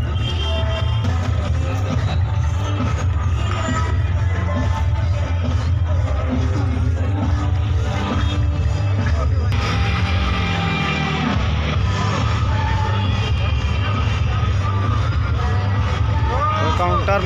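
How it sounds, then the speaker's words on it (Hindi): A dense crowd packs a lottery draw counter in Kuarmunda, with loud, continuous hubbub and overlapping voices plus nearby talking throughout. "तो पूरा माहौल पूरा भीड़ भाड़ का है भाई"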